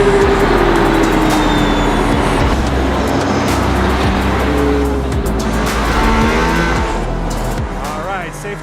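A Mercedes-AMG ONE hypercar at full throttle on the Barcelona track with DRS open, its engine note loud and continuous and rising in pitch through the gears, with faint tire noise and someone talking over it throughout.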